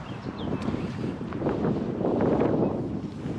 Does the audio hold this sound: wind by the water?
yes